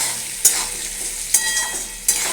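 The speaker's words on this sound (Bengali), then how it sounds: "ভালো করে নাড়াতে হবে যেন হলুদ নুন মিষ্টিটা ভালো করে তেলের মধ্যে মিশে যায়" Potatoes being stirred with turmeric, salt and sugar in hot frying oil, a steady close sizzle broken by three sharp scrapes of the spoon against the pan at regular intervals.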